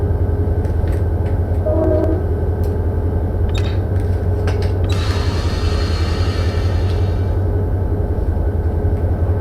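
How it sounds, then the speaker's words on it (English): A freight train rumbles along in the Run8 train simulator, a loud, steady low drone with metallic creaks and clanks rising briefly over the roar of rolling wagons. "it feels good to be running a train again"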